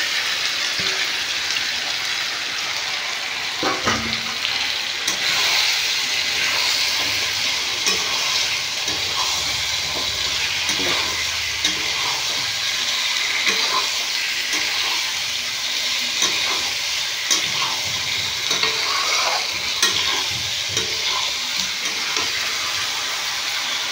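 Fried egg and potato tumble into spiced oil for a village-style egg and potato curry, with a loud continuous sizzle and bubbling. Occasional spoon scrapes and knocks are heard as everything is stirred close by.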